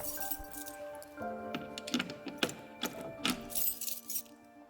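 Keys jangle in a handful of light metallic clinks and jingles, bunched in the middle of the stretch over steady background tones.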